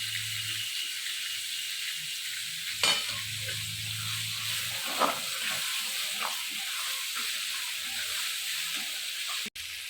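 Finely chopped tomato fries in ginger garlic paste for a drumstick vegetable dish, giving a soft, steady sizzle with a few light stirring scrapes and one sharp click near the end.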